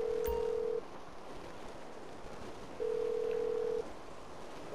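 A phone call placed while skydiving in a video game: a steady electronic ringback tone sounds twice, each about a second long with a pause between, over constant rushing wind noise.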